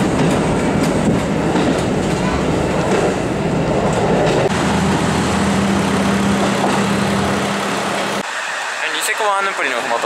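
A train in Hokkaido, Japan, running between Oshamambe and Otaru, rolls along the rails with a steady rumbling drone, speech layered over it, and the noise drops away near the end as it stops briefly.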